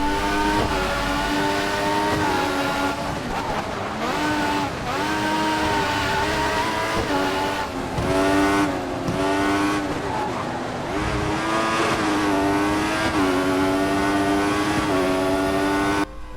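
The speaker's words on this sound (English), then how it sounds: "the most annoying thing for me was the noise from the engines." Loud, continuous whine of Formula 1 racing engines in the video game F1 2014, pitches sweeping up and down as they rev and shift, with no pause throughout.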